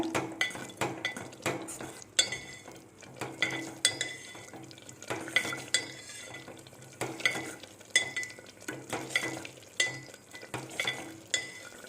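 A spoon stirs a mixture in a pan on the stove over a low simmer, giving repeated scraping and clinking strokes in an irregular rhythm, moderately close, with a soft frying hiss beneath and no voices.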